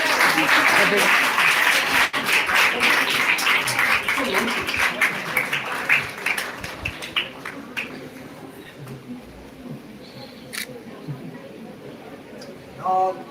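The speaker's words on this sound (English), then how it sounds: "I request all the participants to give a big round of applause for the book launch." A seminar audience applauds a book launch, loud dense clapping that thins and fades over several seconds, leaving sparse claps and a quiet room with a brief burst near the end.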